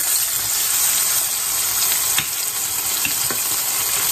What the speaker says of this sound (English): You want to hear that sizzle, guys.